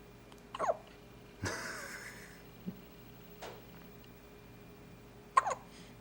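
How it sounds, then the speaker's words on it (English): A boy hiccups several times with sharp, isolated catches spaced a few seconds apart, fairly close and quiet, in an otherwise calm room. "I got the hiccups,"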